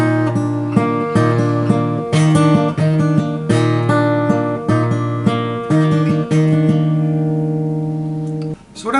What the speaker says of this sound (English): I'm going to add those bass notes to this finger picking section and play that lead